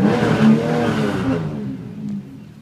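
A 2002 Chevy Camaro with a manual transmission and 146,000 miles revs close up through its exhaust, a loud throaty burst that bounces off the rev limiter and then drops back toward idle.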